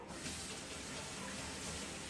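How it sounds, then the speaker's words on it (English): A towel stained with spilled carpet paint is rinsed under a steadily running tap into a sink, a continuous close hiss of water without pause for about two seconds. "Alright, I'm gonna wash my towel out,"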